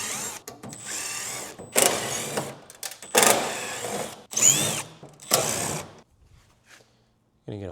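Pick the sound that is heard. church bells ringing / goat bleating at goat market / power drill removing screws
power drill removing screws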